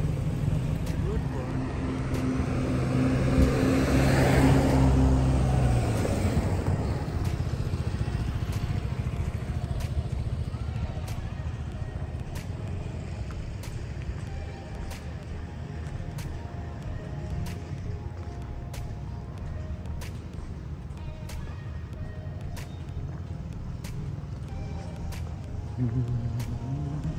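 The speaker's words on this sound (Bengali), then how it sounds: "মোটরসাইকেল মোস্টলি এই টাইপের এগুলোই চলে এখানে।" Motorcycles and cars pass along a busy Kuala Lumpur street, a steady wash of engine and road noise with one louder vehicle swelling past early on, while a person talks nearby.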